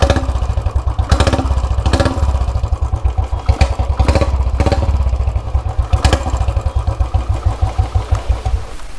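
A 2018 Royal Enfield Classic 350 idles loud and close, its exhaust thumping steadily with a few sharp revs and clattering pulses, no voices.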